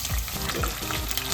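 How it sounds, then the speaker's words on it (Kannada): Chopped onion and green chilies sizzle in hot oil with mint, a steady close crackle with soft stirring scrapes in a home kitchen. "ಹಸಿಮೆಣಸಿನ್ಕಾಯಿ ಎಲ್ಲ ಫ್ರೈ ಆಗಬೇಕು."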